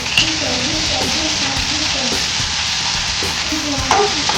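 Cumin, garlic and coriander sizzle in hot oil for a drumstick flower curry, a steady crackling fry with occasional stirring scrapes, up close, while a voice speaks over it in intermittent phrases.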